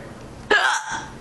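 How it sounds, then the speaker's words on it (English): One sharp, sudden hiccup from a person close by, a quick jolting gulp that rises out of quiet room tone and fades within a fraction of a second. "I'm hiccuping again."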